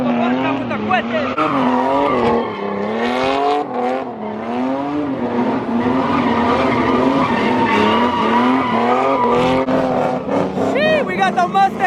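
Ford Mustang accelerating hard at a car meet, tires squealing and skidding in long wavering howls over loud engine roar, with crowd noise and voices throughout.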